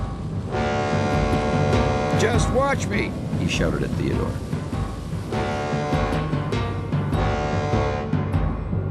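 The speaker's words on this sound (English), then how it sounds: "Cabot chugged on towards the sandy beach, honking his horn and roaring his engine." A cartoon tugboat honks its horn in rising and falling blasts while its engine roars, heard over busy background music as someone shouts a line of dialogue.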